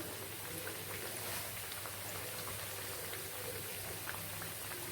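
Cassava vadai deep frying in hot oil after being turned, giving a steady, close, even sizzling hiss that fills the whole stretch with no talking.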